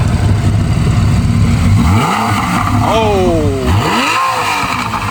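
A Porsche 911 Carrera S engine revs loudly and close by, with a couple of rising throttle blips sweeping up in pitch over a steady mechanical drone and a brief voice.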